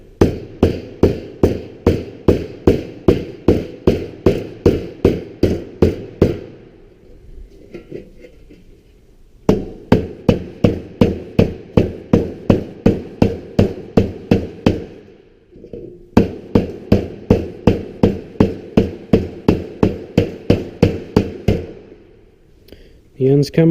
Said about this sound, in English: And then use the flat side of the hammer and finish it off.